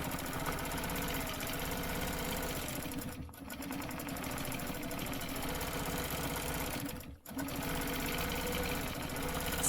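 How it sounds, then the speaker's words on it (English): A sewing machine stitches along a book spine, running in a fast steady mechanical whir with two brief pauses, loud and close with no speech. "See right here, I can kind of stitch that part of the spine."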